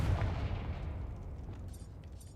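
A Confringo fire spell blast in Hogwarts Legacy erupts as a single loud, booming burst at the start, then trails off into a long, rumbling decay.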